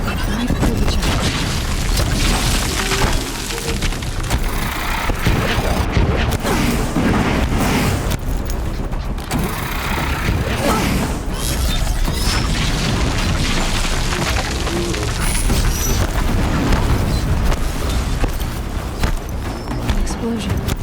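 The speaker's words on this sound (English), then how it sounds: "Explosion." Booming explosions in the action game Horizon Zero Dawn, heavy and loud within a dense, continuous wall of battle noise and game score, with voices talking throughout.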